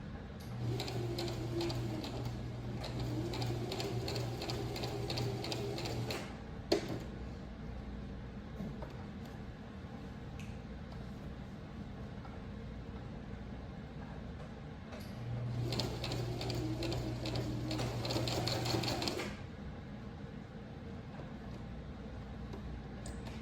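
Domestic sewing machine stitching a continuous placket, running in two steady bursts of rapid, even mechanical clatter separated by a quieter pause, close and alone without talk.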